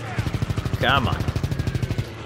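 Call of Duty: WWII machine gun firing in a steady, fast rhythm of distinct shots for about two seconds until it overheats, loud and close, with a brief voice cutting through partway.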